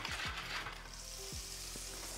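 Butter melting in a preheated pan over medium-high heat before cooking skate wing, giving a soft, even sizzle that holds steady with faint utensil touches, no voices.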